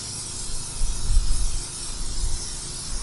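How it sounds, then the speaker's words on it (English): A steady broadband hiss of Super Clean All Wheel Cleaner sprayed onto a wheel from 6 to 12 inches away, continuous for a few seconds with a low rumble underneath. "we're going to spray this stuff on 6 inches away, 6 to 12 inches"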